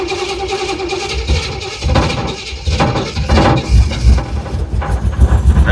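A 1969 Chevelle engine cranking and catching again with the choke opened a bit more, a close, rough, uneven mechanical churn that surges and falters in pulses before steadying into a louder running idle.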